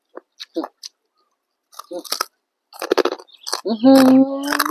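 Crunchy chewing of crispy pork eaten with spicy Thai-style papaya salad, close and in short bursts, with a voice speaking between bites and a sustained vocal tone near the end.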